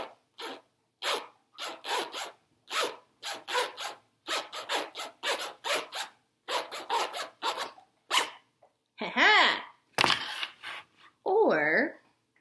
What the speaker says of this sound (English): my ukulele case zipper.